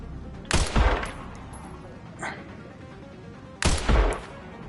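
Two loud, sharp gunshots fired at a zombie in the video game Resident Evil 9, spaced a few seconds apart with a faint thud in between, over low background ambience.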